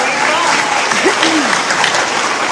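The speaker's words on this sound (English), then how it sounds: "So, round of applause for our panel." A conference audience applauds a panel at an IMPACT Clubs event, with steady, full clapping throughout and a few faint voices mixed in.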